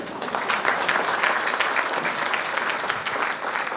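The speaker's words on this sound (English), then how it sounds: "Can we have a huge round of applause for them?" An audience at a school silver jubilee celebration applauds students, a dense, steady burst of clapping from a large crowd that holds at an even level for several seconds, with no talk over it.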